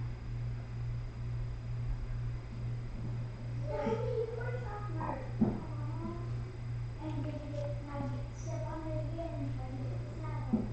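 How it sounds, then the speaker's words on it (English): A five-month-old kitten meows several times in short, close bursts over a constant low electrical hum, with quiet gaps between the calls. "Little kitty."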